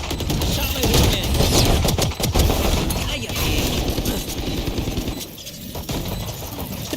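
Rapid gunfire during a competitive Valorant-style esports match, dense bursts and crackling shots filling the mix at close range under excited caster-style talk and crowd commentary throughout.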